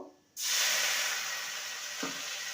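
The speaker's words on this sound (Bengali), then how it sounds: "এবার একটু সামান্য জল দেব" Water poured into hot frying spices (coriander powder, chili powder, turmeric, salt) for a ridged gourd curry bursts into a loud, sudden sizzling hiss that holds steady and slowly eases, with a small clink near the end.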